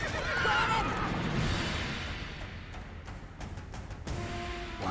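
Roach, a horse in the video game The Witcher III, gives a loud whinny and then gallops, with rhythmic hoofbeats and game effects sounding alongside.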